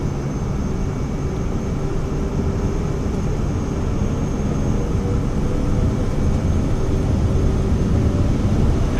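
A Cirrus Vision Jet's engine in Microsoft Flight Simulator 2024 spools up for takeoff, a steady loud rumbling roar with a faint high whine, continuous and even throughout, no voices.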